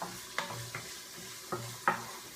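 Garlic sizzling in a hot pan, a soft steady fry broken by several distinct scraping stirs, the last one the loudest, with no talk.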